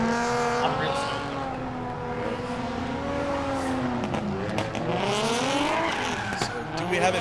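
A drift race car at a speedway revs hard with squealing tires, its engine pitch climbing and dipping under a continuous roar, with sharp bangs and pops from the exhaust and a voice speaking over it.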